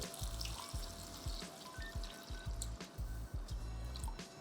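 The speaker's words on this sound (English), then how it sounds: "Add in 3 cups of water." Three cups of water pour into a pot of chili con carne with beans, making a continuous close gurgling splash with a rough, pulsing flow and no talk.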